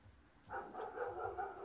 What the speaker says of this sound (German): Dein Hund hat gebellt.